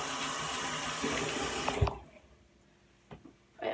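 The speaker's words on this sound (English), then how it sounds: "And then I just wet this cloth again and take the cleanser off." Running tap water splashes steadily onto a cloth at a bathroom sink during a morning routine, then cuts off abruptly, leaving a few faint drips and a short, quieter burst of water.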